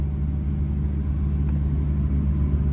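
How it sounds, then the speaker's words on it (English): A semi truck's diesel engine idles in a steady low rumble while the rig backs up slightly to move the trailer tandems, close and continuous with no other sounds. "So now I gotta go in the truck and back up a little bit"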